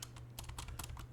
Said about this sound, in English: I'm going to type which